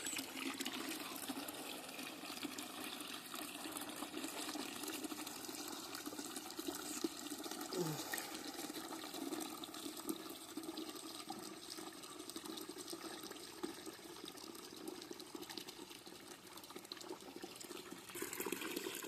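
Water runs steadily through a pipe into a drum on a poultry farm, a continuous rushing and splashing fill that stays fairly loud and even throughout with no talk.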